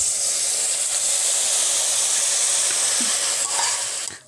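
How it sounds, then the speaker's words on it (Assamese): Ground carrot frying in a hot kadai for carrot halwa, a steady bright sizzling hiss close by that holds evenly, then cuts off sharply at the end. "এয়া মোৰ এতিয়া কেৰাহী গৰম হৈ গৈছে আৰু ইয়াত দিম মই গ্ৰাইন্ড কৰি থোৱা গাজৰখিনি"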